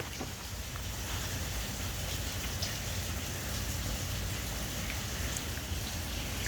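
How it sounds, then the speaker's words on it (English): A steady downpour on New Year's Eve keeps up an unbroken, wash-like hiss with a low rumble beneath it, holding the same level throughout with no speech over it. "Look at that rain."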